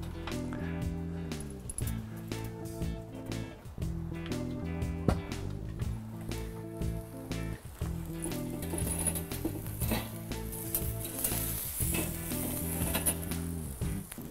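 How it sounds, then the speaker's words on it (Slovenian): Meat burgers sizzle on a Kingstone charcoal grill, a steady crackling fry close up, broken by repeated clanks and scraping of tools over the grate. "bom vse skupaj obrnil na drugo in upekel še z druge"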